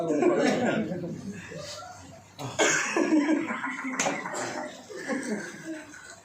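Someone gives a few short coughs on request at a gathering, mixed with chuckling and laughter from people nearby, and talking in between.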